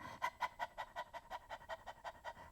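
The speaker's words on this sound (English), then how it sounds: "Put one hand on your diaphragm and start doing the pant." Quick, even panting breaths for a flute breathing exercise, about a dozen short rhythmic puffs in a steady pulse, faint and close with no talking.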